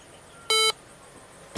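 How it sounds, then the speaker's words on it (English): A homemade laser rangefinder's proximity alarm gives a single short, loud electronic beep as the distance drops below one meter, then another brief beep starts at the end amid quiet room noise. "when we get below 1 meter, the alarm will go off."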